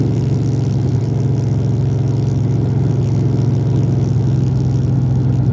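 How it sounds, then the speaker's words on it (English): A loud car engine drones steadily at a low pitch, a constant close rumble with no voices. "This car is extremely loud."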